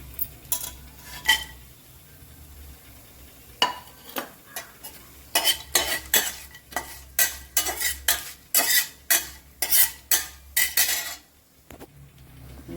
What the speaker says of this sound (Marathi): आपण याच्यात काजू टाकणार आहोत.